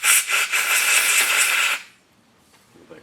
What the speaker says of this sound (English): get some compressed air.